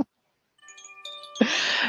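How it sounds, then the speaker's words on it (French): A short run of gentle chime notes rings out one after another and sustains softly, then gives way to a louder burst of sound as the notes fade; the chimes are played as a thank-you. "Un peu de carillon pour toi"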